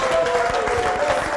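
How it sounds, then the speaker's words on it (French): An audience claps after a song at a comedy show, a short burst of applause at moderate level with a faint musical tone underneath. "On applaudit très fort."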